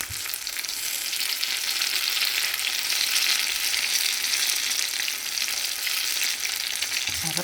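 Banana turon frying in hot oil, a steady, bright sizzle and crackle that stays loud and constant throughout, close up with no talking.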